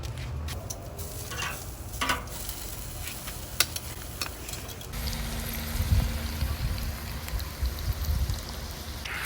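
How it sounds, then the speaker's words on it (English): Vegetables go onto a hot charcoal grill set up for two-zone indirect heat and sizzle in a steady, rain-like hiss. A sharp tick and a rise in the sizzle come midway, and the grilling goes on close and moderately loud. "I'm gonna just grill up my vegetables right now"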